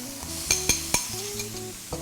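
Pork hitting a hot pan with ginger, garlic and chilies for Szechuan pork and eggplant, a steady close sizzle with several sharp clinks of a utensil stirring against the pan.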